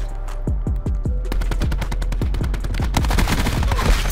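Rapid bursts of MX9 submachine gun fire in a shooter video game, sharp repeated shots forming steady automatic rattles that grow denser toward the end, loud and close with no talking.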